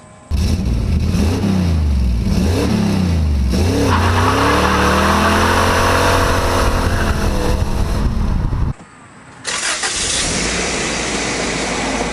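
A car with broken suspension is limped outside, its engine revving up and down loudly and close by in rising and falling sweeps, then cutting out briefly before an idling rumble resumes.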